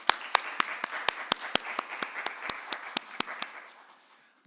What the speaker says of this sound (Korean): 우리 하나님께 감사의 박수 한번 드립시다.